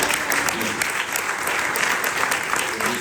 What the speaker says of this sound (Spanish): Den ese aplauso al Rey de Dios.